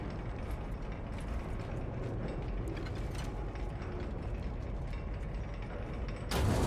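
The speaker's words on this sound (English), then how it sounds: "Reloading magazine." A rifle magazine being reloaded in a sniper video game, a steady dense mechanical rattle of clicks and ratcheting under a low rumble, ending in a louder clunk.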